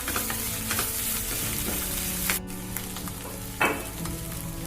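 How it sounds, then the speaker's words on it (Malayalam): Clams for a spicy Kerala-style fry stirred in a pan over medium-high flame, with a steady close sizzle and occasional scraping stirs, no voices. "2 മിനിറ്റ് കൂടെ നന്നായി ഇളക്കി യോജിപ്പിച്ച് ഒന്ന് കുക്ക് ചെയ്തെടുക്കണം"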